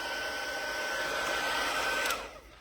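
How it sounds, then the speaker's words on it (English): A heat embossing tool blows hot air in a steady, close whirring rush with a thin high whine, then cuts off near the end and winds down quickly. "And I'm going to come in with my heat embossing tool."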